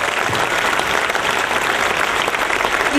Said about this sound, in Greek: Χειροκροτήστε τη.